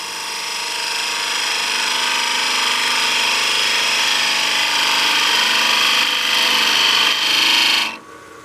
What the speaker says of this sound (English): we can just use our skew, basically using this negative rake box scraper, and we can go in there and just open up this slightly